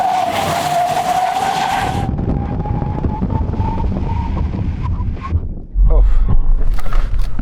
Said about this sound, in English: We'll also measure the stopping distance from 60 miles an hour as part of that brake test.